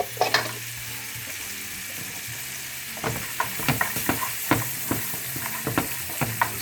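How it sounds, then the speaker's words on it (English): Diced red sweet onion sautéing in melted butter in a pan for beef stroganoff, a steady close sizzle with repeated scraping strokes of a utensil stirring, over a low background hum and without talk. "Saute this up for a couple minutes."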